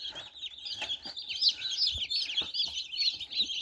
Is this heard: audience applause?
no